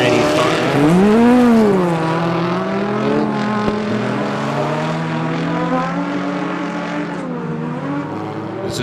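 Stock cars race around a track, engines droning and whining with rising and falling pitch as they pass close by, loud at first then steady, while an announcer talks over them.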